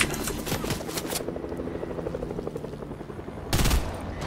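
Steady mechanical rotor drone of a helicopter with bursts of rapid gunfire at the start and a loud blast near the end, in a busy Fortnite Battle Royale scene.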